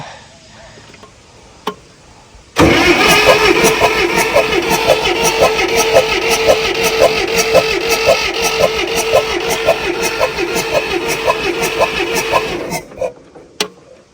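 A 1962 Massey-Ferguson tractor engine, out of gear with the throttle about half open, catches abruptly and runs loud and close with a rapid, even chugging for about ten seconds before cutting off.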